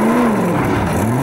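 Home-built small block Chevrolet powered 4x4 competition vehicle with its engine revving hard, loud and close, the pitch dipping and then climbing again over a short burst; no voices.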